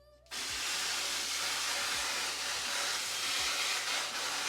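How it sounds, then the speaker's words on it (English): A steady, hard hiss of water spraying onto the leaves of an Anthurium 'Red Crystal' plant, broad and continuous from start to finish, close to the listener with no talking. "now we're gonna take a nice hard spray to the leaves."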